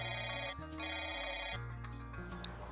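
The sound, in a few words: telephone ringing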